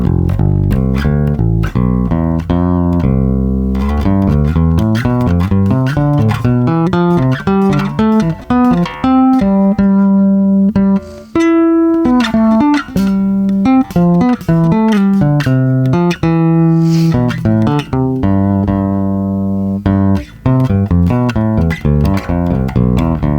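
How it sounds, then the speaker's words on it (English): A melodic instrument plays a broken fourths scale exercise, a steady run of sustained tones stepping through leaping interval pairs, loud and clear with no talking. "Broken fourths, they have a little bit more of a modern type of sound."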